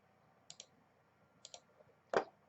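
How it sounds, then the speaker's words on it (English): Computer mouse clicks, two quick paired clicks followed by a louder single click, crisp and close against a quiet room with no talk. "And then right click and paste."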